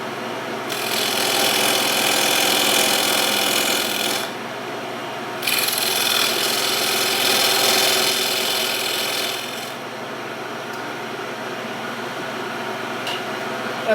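A wood lathe turns waste plywood off a segmented bowl with a gouge, giving a loud, rough, continuous scraping hiss in two long passes with a short pause between, then a quieter spinning hum.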